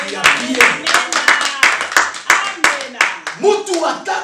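A church congregation claps for Jesus at a sermon, giving a loud series of about a dozen sharp, fairly regular claps with voices calling out between them.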